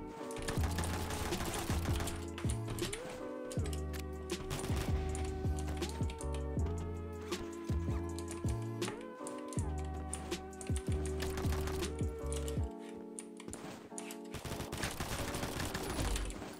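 Rapid bursts of G18 pistol fire in the shooter game Combat Master, fast rattling volleys repeating over a steady synthetic soundtrack, loud and close.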